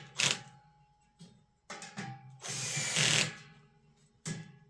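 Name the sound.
tightening bolts on a garden bench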